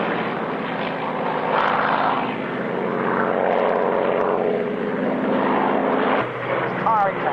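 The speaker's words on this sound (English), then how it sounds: "The living flying legend," A Spitfire fighter flying at the Duxford Flying Legends Airshow in 1997, its propeller engine droning loudly in sweeping passes as it nears and recedes, under the talk of a commentator.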